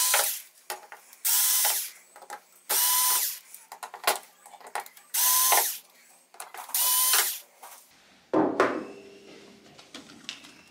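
Bursts of a cordless drill backing five screws out of the power supply board of a Sharp LC-50LB481U 50-inch LCD TV, several loud whirring runs with short pauses between, ending in a clattering handling noise.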